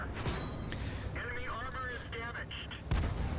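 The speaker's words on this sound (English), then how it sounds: "Looks like the Stug 3 is firing at the lower plate now" Tank cannon fire in the World of Tanks video game, a StuG III shooting at a KV-220, heard as a few sharp booms among a busy battle mix with engine rumble and electronic tones.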